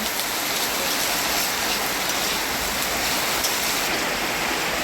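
Fried potatoes and oil being stirred together in a pan make a continuous dense sizzle, loud and close, with no talking.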